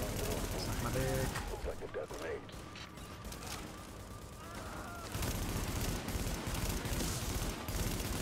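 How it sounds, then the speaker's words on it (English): Rapid suppressing gunfire from the video game The Division, dense bursts of shots and crashes running throughout at a steady loud level, with a voice talking over part of it. "Suppressing fire."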